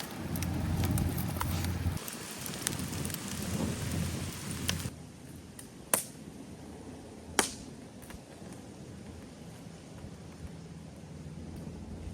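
A brewing thunderstorm with steady rain hissing on surfaces, a low thunder rumble early on, then the rain eases and two sharp cracks stand out against the quieter patter.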